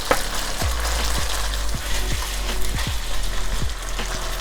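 Beef for a tomato stir fry sizzles loudly in a hot pan as it is flipped, a dense close frying hiss with scattered sharp pops and crackles.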